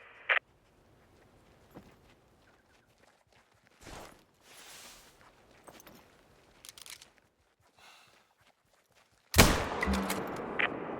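A hunting rifle fires once in theHunter: Call of the Wild at a stone circle in Parque Fernando, a loud, sharp close blast with a rolling tail after quiet footsteps and rustling.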